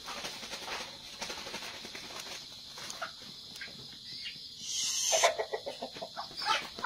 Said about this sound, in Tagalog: Mga manok, nagtugdom na